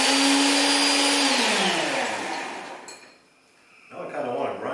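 An Earthwise TC70016 electric roto-tiller cultivator with two prongs whirs loudly with a high electric whine, then winds down to near quiet before the motor spins back up briefly.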